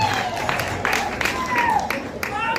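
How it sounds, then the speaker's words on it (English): An audience at a primary schools music festival awards ceremony applauds a school in a steady, moderately loud patter of many hands, with some voices calling out over it. "Can we clap for them?"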